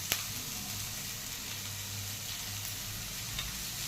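Soya chunks sizzle and fry steadily in a hot pan, a continuous close hiss with a faint stir near the start and no talking.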